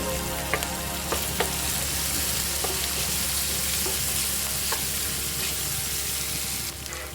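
Crushed cumin and other ingredients sizzle steadily in hot oil in a pan while rice rava upma is being made, a close, constant frying hiss broken by occasional clicks of a utensil stirring.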